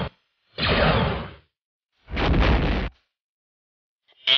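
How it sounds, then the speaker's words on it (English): Blaster fire in a LEGO Star Wars Clone Wars animation: two loud, separate half-second bursts a beat apart, with a third starting at the very end, and silence between them. "All units, open fire!"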